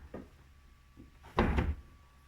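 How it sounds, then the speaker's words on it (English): An interior door panel on a 2003 GMC Sierra pickup lifted and pulled free: faint clicks, then a loud, brief plastic scrape and clunk as it comes off, alone. "this door panel should just lift up and then out, and it should just pull right off"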